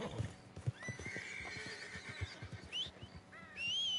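A horse in Red Dead Redemption 2 whinnies with rising, shrill calls while hooves clip-clop steadily underneath, fairly faint and close, with no talking.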